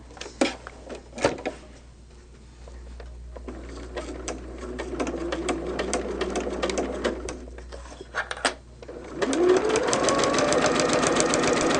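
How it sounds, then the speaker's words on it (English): Sewing machine stitching a short straight seam on a quilt block, running in a steady rapid mechanical whir for several seconds after a few clicks and handling noises, with a brief pause before it speeds up again. "we're going to sew that one little straight section."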